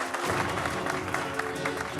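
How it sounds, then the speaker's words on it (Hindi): An audience bursts into steady applause for a stage magician's assistant, Deepa, during a magic act; dense clapping fills the room from just after the start and carries on evenly throughout. "मैं चाहूंगा कि आप सब मेरी इस बहादुर और खूबसूरत असिस्टेंट दीपा के लिए जोरदार तालियां बजाएं।"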